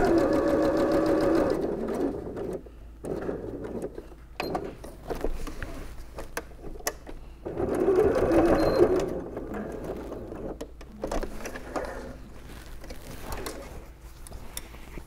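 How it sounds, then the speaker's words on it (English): Sewing machine backstitching an apron seam, running in short bursts of rapid stitching separated by pauses, close and fairly quiet, with brief clicks and handling sounds between runs. "you can just go right back over it and backstitch."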